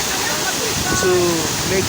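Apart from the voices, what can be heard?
Chenku Waterfall in Dodowa, Ghana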